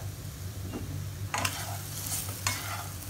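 Bitter gourd (karela) with dried mango powder, salt, sugar and spices is stirred in a sizzling pan, with a steady fry hiss broken by a few louder scraping stirs over a low hum.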